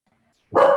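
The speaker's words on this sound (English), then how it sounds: "Oh, sorry, that's my dog." A pet dog at home gives one sharp, loud bark close by, bursting out suddenly after a stretch of silence.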